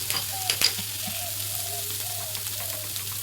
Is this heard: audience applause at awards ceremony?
no